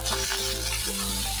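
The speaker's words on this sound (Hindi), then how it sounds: "मैं क्या कर रहा हूँ चनों को भून रहा हूँ हल्का सा" Chickpeas lightly roasting in a home kitchen pan, giving a dense, loud sizzle with bright hiss and a low steady hum underneath, brief and continuous.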